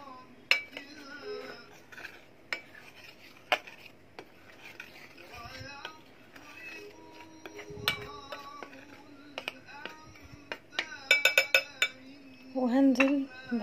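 Dry ingredients, including baking powder, being stirred together in a bowl, with scattered light clinks and scrapes of a spoon against the bowl amid quiet pauses.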